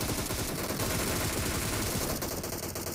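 Rapid, dense gunfire from automatic weapons rattles nonstop through a BGMI battle, loud and close for the whole stretch, with no pauses between bursts.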